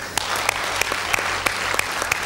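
An audience at a televised gala show applauds in a dense, continuous wash of clapping with a few sharper individual claps standing out.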